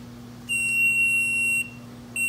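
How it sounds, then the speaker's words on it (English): A shrill, high-pitched electronic alarm from a maple syrup evaporator pan monitor sounds in a steady tone for about a second, stops, then starts again over a low background hum. "It has an alarm so we can hear it if we're outside getting wood."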